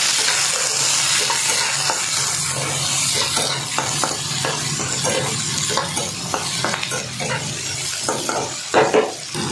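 Onions fry in oil in a pan, crackling steadily while a utensil scrapes and stirs in repeated strokes, with metallic clinks growing busier toward the end; no talking.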